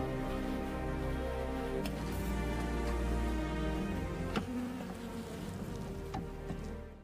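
Swarm of bees from a beekeeping operation in a storage shed, a dense steady drone close by with occasional faint clicks, no voices.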